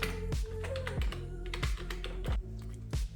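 Quick, crisp key taps on a Mac computer keyboard as a password is typed, a close, uneven string of a dozen or so clicks in small bursts with no talk.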